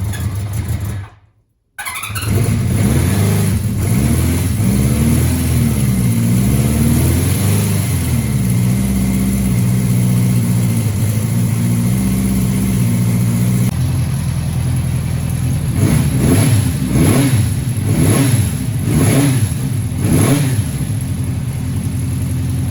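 A 1977 Honda CB400 Four motorcycle with the choke on cranks and starts, then settles into a loud, steady four-cylinder idle close by before a series of sharp throttle revs near the end.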